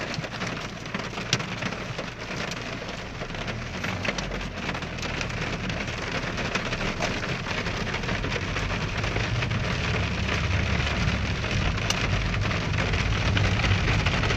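Heavy walnut-sized hail pounds a car body in Akçıköy in a continuous, loud rattling roar, the drumming steady and close throughout with no voices.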